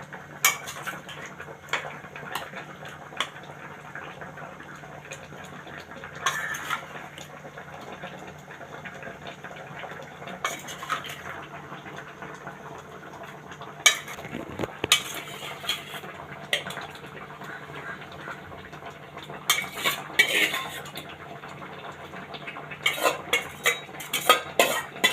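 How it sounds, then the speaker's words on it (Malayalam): Mango curry with milk stirred in a pot, with a spoon scraping and clinking against the metal intermittently over a low simmering bubble, close and moderately quiet. "അപ്പോൾ നമ്മൾ മാങ്ങ അടി പിടിക്കാണ്ടിരിക്കാൻ വീണ്ടും ഇളക്കി കൊടുക്കുന്നു"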